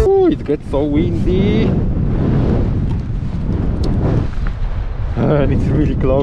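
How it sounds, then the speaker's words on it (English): Strong wind buffets the microphone in a steady low roar on a Norwegian gravel road ridden on a Honda Transalp motorcycle, with a voice speaking briefly at the start and again near the end. "It's so windy"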